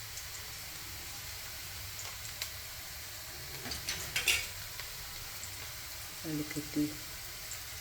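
Rice simmering in a pan of water with cloves and salt for egg biryani: a steady low hiss with a couple of faint utensil clinks, and a voice speaks briefly near the end.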